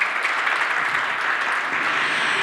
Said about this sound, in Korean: 임지영 교수님에게 다시 한번 큰 박수 부탁드립니다